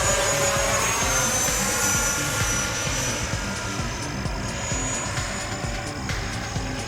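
An FMS Rafale 80mm electric ducted-fan RC jet makes a low pass, its loud, high-pitched whine and rushing airflow holding steady close by with no talking.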